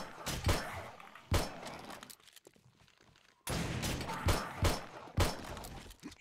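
Gunfire in the video game 7 Days To Die, Alpha 14: several sharp, loud shots spaced irregularly, with a brief quieter gap and a burst of rapid impacts near the end.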